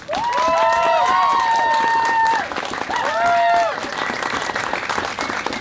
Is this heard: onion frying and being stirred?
no